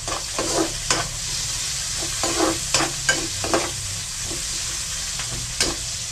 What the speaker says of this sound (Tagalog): Gigisa tayo ng sardinas.